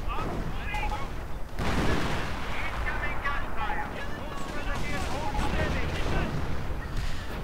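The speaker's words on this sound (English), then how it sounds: "105mm howitzer, ready to open up." A 105mm howitzer fires in a video game set at an American base, with dense, continuous battle noise of booming and crackling reports that keeps the whole stretch loud, while a voice talks over it.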